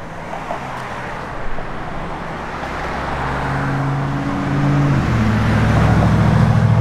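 A 1972 Plymouth Duster with a manual clutch drives along a road, its engine hum rising steadily in pitch as it accelerates, with a gear change partway through and building road and wind noise, close and continuous.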